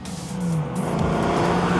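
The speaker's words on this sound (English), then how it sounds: "people hear that V8 roaring past" The V8 engine of a heavily modified 1965 Ford Mustang roars past, a loud, deep rumble building quickly and holding strong as the car nears, with no voices over it.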